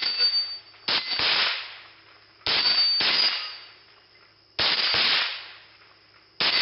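A Ruger 10/22 .22 rifle fires at a steel target. Four sharp shots ring out at irregular intervals, each closely followed by a bright metallic clang that rings briefly and fades.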